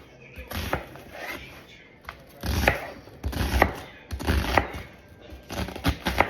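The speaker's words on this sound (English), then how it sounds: "Just gonna cut up this onion in big chunks, just like this" A knife chops an onion into big chunks on a board, with a run of close, sharp thuds coming in uneven bursts, a few knocks at a time with short pauses.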